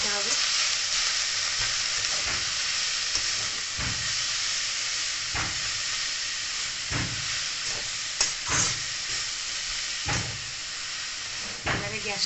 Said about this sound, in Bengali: এবারে গ্যাসটাকে একদম একটু কমিয়ে ভালো করে নেড়ে দিতে হবে